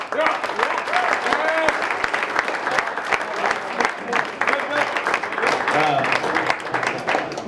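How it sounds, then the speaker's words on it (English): Dense, sustained applause fills a fall sports banquet hall as seniors from football, cheer and dance teams clap for their parents, with crowd voices and chatter running underneath throughout. "So seniors, please give your parents and everyone in here a round of applause"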